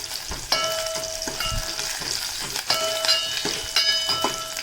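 Garlic, green chillies and curry leaves fry in hot oil with a continuous close sizzle, broken by repeated metallic clinks and scrapes of a stirring spoon against the pan.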